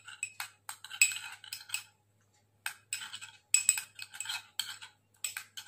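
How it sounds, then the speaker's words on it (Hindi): A spoon clinks and scrapes against a bowl while a face pack paste is stirred with rose water, quick bursts of taps and scraping in short runs with a brief pause, close and fairly quiet. "रोज वाटर की हेल्प से आपको इसको मिक्स करके एक फाइन सा पेस्ट बनाकर तैयार कर लेना है।"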